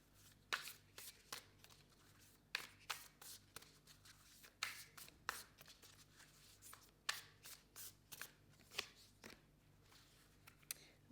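Oracle cards being shuffled by hand during a tarot reading, soft papery riffles and flutters coming in repeated short bursts, close and quiet, with no talking.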